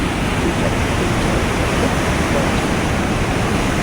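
Water pours through the lock gates of Durgapur Barrage on the river, a loud, steady roar of rushing water with no breaks, close and constant throughout.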